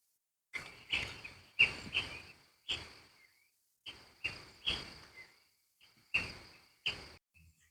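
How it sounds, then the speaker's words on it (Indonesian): Birdsong at dawn in a forest: a series of short, bright chirping calls repeating at irregular intervals, close and clear against near silence, with no water or insect drone evident. "Mendengar suara-suara burung, tonggeret, dan geremcik air."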